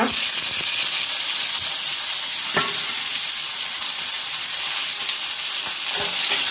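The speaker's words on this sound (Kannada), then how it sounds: "ಇದು ಸೋಪು ಫ್ರೈ ಆವಡು" Greens, onion, tomato and garlic fry in a hot pan with a continuous bright sizzle and hiss, punctuated by a few sharp clacks of a spatula stirring, close and loud with no talking.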